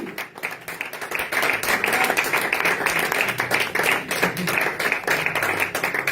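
A church congregation applauding and clapping for Jesus, dense sustained applause from many hands filling the space steadily throughout, with faint voices underneath.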